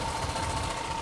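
A farm tractor engine runs steadily near a pear orchard, giving a continuous low rumble with a faint mechanical whine and no breaks.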